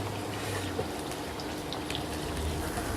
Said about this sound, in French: un trait d'huile dans le wok, et on rajoute les oignons,